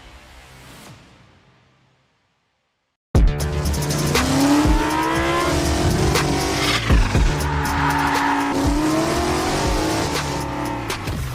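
Cars racing in the video game Wilder World: after a brief quiet start, a loud burst of engine revving takes over, with tires squealing and skidding and engine pitch rising and falling through the rest.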